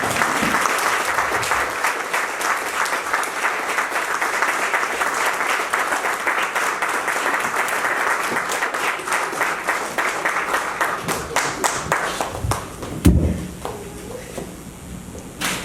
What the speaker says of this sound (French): Un grand bien d'applaudissements pour lui, s'il vous plaît.